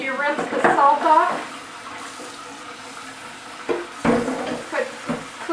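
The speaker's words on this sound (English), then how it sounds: "the first thing you have to do is wash the salt off, or rinse the salt off." Cold tap water runs into a bowl while salted codfish is rinsed, splashing and gurgling loudly at first, then dropping to a softer steady flow before surging again near the end.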